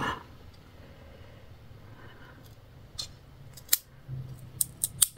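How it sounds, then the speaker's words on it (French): A few sharp snips from a small pair of scissors trimming the ends of something, quiet and close, spaced out near the end after a near-silent stretch. "J'espère qu'avec ces ciseaux là ça va aller."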